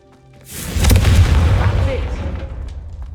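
A fire spell called Confringo goes off in a video game as a single deep booming blast that swells to loud and then slowly rolls away, with a muffled low rumble trailing behind it.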